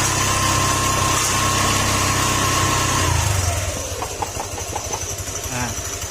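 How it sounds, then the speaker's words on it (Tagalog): A small engine idles after a backplate adjustment; a loud rough drone in the first half settles into a quieter, steadier idle, with some voices talking nearby. "ito ito mahimik na yung makina"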